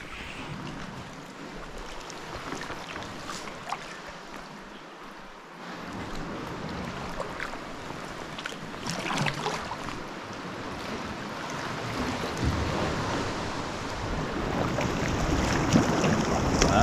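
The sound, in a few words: choppy sea swell at the northern end of an island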